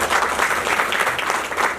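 An audience at a memorial fair and theatre event at Kala Bhawan, Phagwara, bursts into loud, dense applause that holds at full strength throughout.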